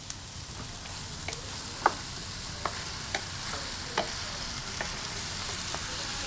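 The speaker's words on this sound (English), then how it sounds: "we're gonna add our Hunt's Petite diced tomato." Hunt's petite diced tomatoes sizzle gently in a hot pan, a low steady hiss broken by several distinct stirring scrapes and taps, close and quiet, with no talking.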